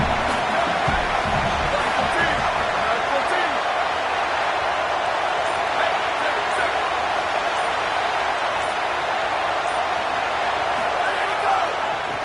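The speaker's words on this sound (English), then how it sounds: "This crowd rising up, sensing that its defense needs some help." A stadium crowd in a Madden football video game swells into a sustained, dense roar with scattered thumps, heard under a play-by-play commentator talking throughout.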